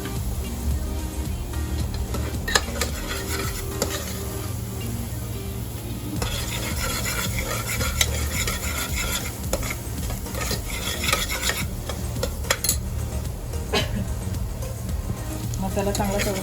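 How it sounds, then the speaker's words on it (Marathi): Masala spice mix frying in oil for a monsoon shevla wild-vegetable curry, with steady stirring and scraping of a spoon in the pan under a low background hum, while a voice talks over it. "मसाला चांगला तळून घ्यायचा, तेल सुटेपर्यंत"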